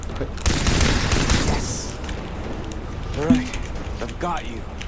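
Rapid bursts of assault rifle fire crackle in the video game Far Cry 3, with a player talking and shouting over the shots before the gunfire trails off into background sounds.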